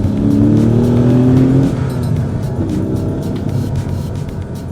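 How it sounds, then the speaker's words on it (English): A Porsche 986 Boxster S engine howls loudly up close, revving high and then easing off into a steady drone as it pulls away. "it's a pure joy to listen to that engine just howling away."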